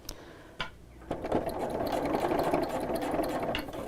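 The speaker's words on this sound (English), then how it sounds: "then you can just carry on sewing" Sewing machine stitching an invisible zip into a cushion cover: a few starting clicks, then a steady close whirring drone of the needle mechanism running continuously, with no speech.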